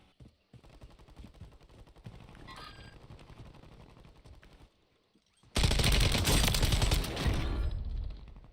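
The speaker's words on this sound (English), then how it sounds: "shots there on the hill to our left" Gunfire in the video game Call of Duty Warzone: a stretch of rapid crackling shots, a short pause, then a loud, dense burst of automatic fire that holds for about three seconds.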